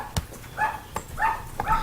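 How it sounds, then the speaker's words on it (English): A dog at a grandmother's house barks in three short, separate woofs, moderately loud and fairly close, with quiet pauses between them. "You can hear the dog."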